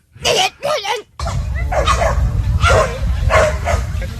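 A person imitates a small campsite dog that can't properly bark, giving two quick, strained yipping bursts up close, followed by a steady murmur of voices and background noise.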